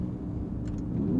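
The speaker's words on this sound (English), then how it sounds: "I'm gonna go warm the car up. It'll make better sounds and stuff if it's warm" Sports car engine warming up at idle, a steady low rumble close by with a slight rise in revs near the end, no talk.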